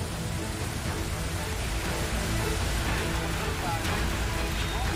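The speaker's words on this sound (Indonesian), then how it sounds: "Di Kota Lamongan, Jawa Timur, sejumlah rumah terendam banjir usai diguyur hujan deras." Heavy rain falls on a flooded street in Lamongan, East Java, a continuous, dense roar of water with faint traffic rumble underneath.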